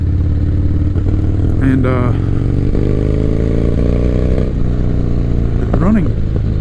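A 1985 Harley Davidson FXR rumbles at a steady cruise with a deep, continuous low-pitched drone and a slight rise in revs, while someone talks over it and wind and road noise persist.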